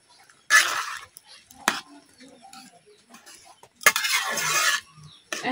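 Papaya and lentil curry being stirred in a pot, with two brief scraping bursts of a spoon against the metal separated by quieter moments, a faint tick and soft voices in between.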